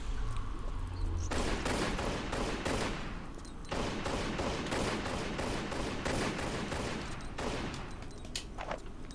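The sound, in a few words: pistol gunfire at bats in Tomb Raider level editor game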